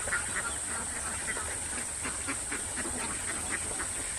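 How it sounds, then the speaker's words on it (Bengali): White Pekin ducks running about outdoors, with a steady stream of quacking and honking calls blending into constant background noise and a high steady hiss. "এই যে হাঁসগুলো দেখুন দৌড়াদৌড়ি করছে"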